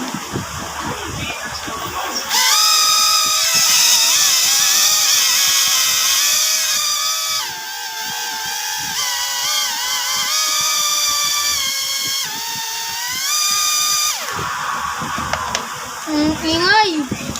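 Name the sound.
drag bike engine running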